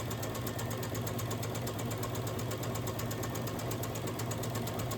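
A sewing machine stitching quilt block pieces runs at a steady, even rhythm, a continuous close mechanical whir with regular needle ticks and no pauses or talk.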